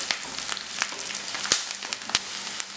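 Ginger and garlic sauté in hot oil for Kerala-style bilimbi pickle, a soft, close sizzle broken by sharp pops and a couple of loud spatula clacks.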